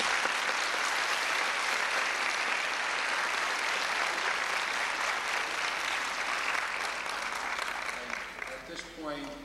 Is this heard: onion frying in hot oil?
no